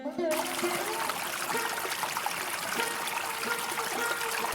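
Water poured into a shallow hole dug in the soil of a farm field at night, making a steady, continuous trickle and splash that runs throughout with a faint tonal hum underneath.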